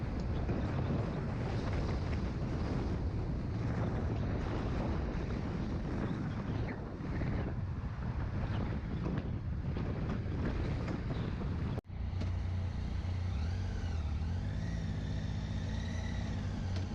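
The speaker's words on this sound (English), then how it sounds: "We were sailing on Brittany Ferry's Cap Finisterre, and we had an outside cabin booked as well." Brittany Ferries ferry Cap Finisterre at sea, a steady broadband rush of wind buffeting the microphone over a low engine and water rumble, continuous throughout with a brief dropout near the end and a calmer, humming tail.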